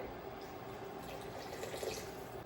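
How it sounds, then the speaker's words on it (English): A cup of water poured into a soup pot, a faint, even, continuous trickle of liquid at close range with no voices. "And I'm going to add in 1 cup of water."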